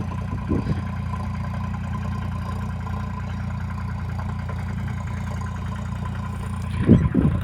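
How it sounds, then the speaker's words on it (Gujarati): A tractor engine runs steadily at a low, droning idle while sowing onions in a field, with a brief louder clatter near the end and no talk. "અમારે ટ્રેક્ટર વાવે છે"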